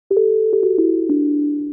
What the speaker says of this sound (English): You have a normal sine wave.